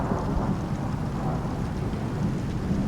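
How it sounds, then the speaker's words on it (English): Rain in the video game Icarus, a steady dense hiss of falling rain with a low rumbling storm undertone, continuous and fairly loud throughout, with no talking. "Oh, it's only rain."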